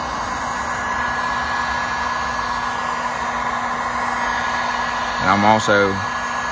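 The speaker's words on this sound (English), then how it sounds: "You want everything to heat up nice and even." A handheld heat gun blows hot air over a canoe hull with a steady, loud whir that runs throughout, and someone speaks briefly near the end.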